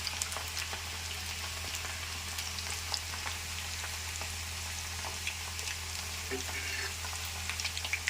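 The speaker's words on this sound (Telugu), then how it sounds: "ఇప్పుడు వెల్లుల్లిపాయ వేసాను చూశారు కదా" Garlic fries in hot oil with a gentle, steady sizzle and scattered crackles over a low constant hum, quiet and close, with no talking.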